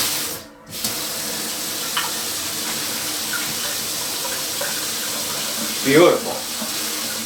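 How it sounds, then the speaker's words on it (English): A laundry tub faucet gushes continuously into the basin, a steady broad hiss of running water, with a short spoken remark near the end. "I think it's time to turn the water on and try this."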